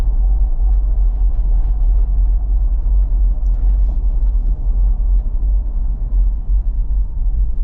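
A modified Ineos Grenadier drives along steadily, a continuous deep low rumble of engine and road noise filling the cabin with no distinct peaks.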